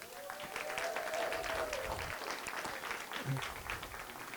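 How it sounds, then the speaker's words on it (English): An audience at an event on breaking color barriers applauds a final panelist, a fairly soft wash of many hands clapping steadily with some crowd murmur and a faint tone underneath. "Can we please give her a round of applause?"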